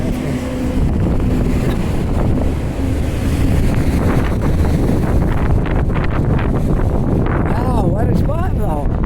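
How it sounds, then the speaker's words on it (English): Strong wind roars and buffets the microphone steadily throughout on a downtown street, with water noise beneath and brief voices near the end. "I know it's windy, but hang in there."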